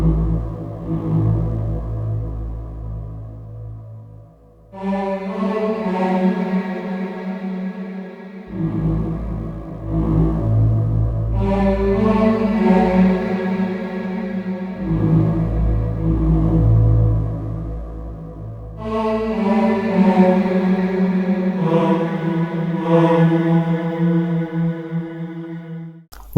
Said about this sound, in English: What you heard was the choir on the Roland and gas dryer hose, one of the presets on this yellow Lemondrop.